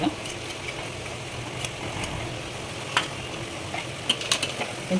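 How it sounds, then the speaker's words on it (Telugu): Fenugreek leaves stirred into chicken curry in a pan, with soft scraping and faint sizzling throughout and a few sharper utensil clicks, moderately quiet and without talk. "కూర వేసుకొని బాగా కలుపుకోవాలి"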